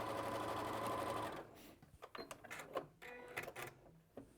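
A sewing machine runs in a steady hum stitching hexagon quilt pieces together, then stops and gives way to soft handling clicks and rustles of fabric, all fairly quiet.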